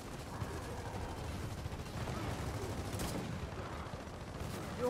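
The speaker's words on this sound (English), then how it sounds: "keep shooting me when I'm trying to shoot him" A video game shootout with steady, dense gunfire and rapid bursts, fairly faint and distant throughout, with no clear pauses.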